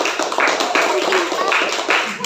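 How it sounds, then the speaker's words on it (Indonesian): Students in a classroom clap for the winner of a summative test, a close, lively round of applause in several rhythmic bursts, with voices mixed into the clapping. "Kita beri tepuk tangan untuk pemenang tes sumatif."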